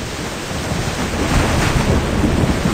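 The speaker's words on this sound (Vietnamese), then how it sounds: "Cơn bão đã đổ bộ" A loud, steady roar of heavy rain in a thunderstorm with rumbling thunder swelling midway, dense and unbroken with no voices.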